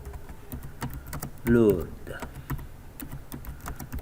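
Rapid, light clicking of computer keyboard keys while text is typed, continuing steadily under a man's brief spoken word in French.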